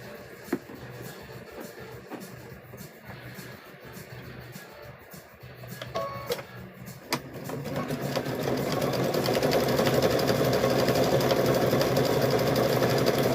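A sewing machine stitches rope for a wall hanging, starting with scattered handling clicks and taps before the motor ramps up into a loud, continuous whir.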